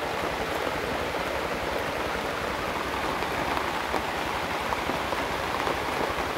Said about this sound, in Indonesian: karena ini hujan, saya juga akan menikmati teduhnya pohon pisang